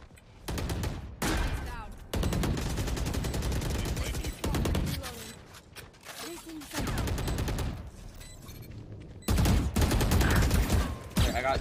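Rapid gunfire in Valorant, a tactical shooter, comes in long, loud automatic bursts separated by brief gaps. A voice talks over the shooting.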